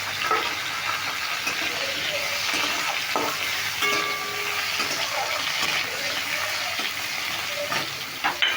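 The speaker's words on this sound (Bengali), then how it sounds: "এবার নেব উচ্ছেগুলো ভেজে" Bitter gourd fries in a pan with a constant, close hiss of oil, with occasional stirring clinks and scrapes and no talking.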